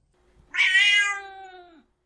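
A toy cat gives one sustained, whiny meow, close and clear, lasting a little over a second against near silence.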